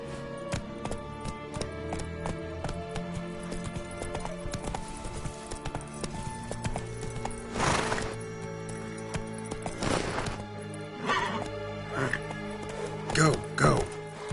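Horse galloping in The Witcher 3, with clip-clop hooves in a running rhythm under game music and effects, mixed with occasional voices and louder bursts.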